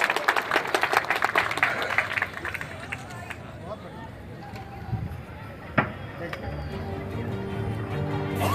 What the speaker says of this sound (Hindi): और जोरदार तालियां ऐसे नागरिकों के लिए।